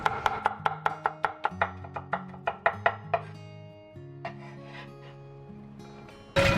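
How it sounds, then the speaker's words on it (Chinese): A knife chops through a small carrot on a cutting board with a quick series of sharp, regular strikes, then a pause and a softer run of slicing and shredding strokes, all close and clear with no talk. "胡萝卜的话，我们就准备小根一点哈，先给它切片，然后再切丝"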